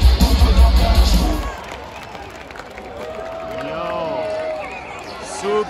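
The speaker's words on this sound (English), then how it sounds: "Cheering for encore." Festival crowd in Romania cheering and clapping for an encore after a concert. Heavy bass thumps open it, then a broad swell of cheers and voices rises and falls at a middle distance.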